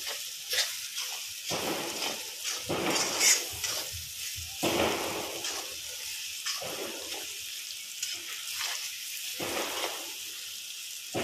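Pav bhaji spices, with salt and chicken masala, sizzle in a hot pan while a spoon stirs and scrapes in repeated bursts, with an irregular rhythm and no talking.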